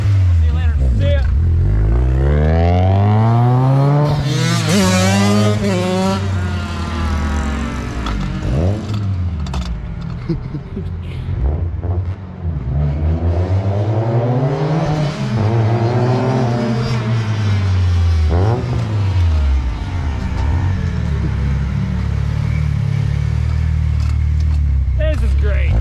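A fully built Mazdaspeed6 with a huge turbo accelerates hard, its engine climbing repeatedly through the revs and dropping at each gear shift, loud and close, with talk underneath.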